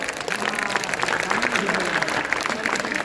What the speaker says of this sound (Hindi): आप हज़रात इन बच्चों के लिए बुलंद आवाज में ताली बजाएं ताकि बच्चे खुश हो जाएं।